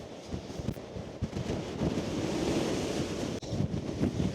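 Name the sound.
strong wind and waves at Land's End, Cornwall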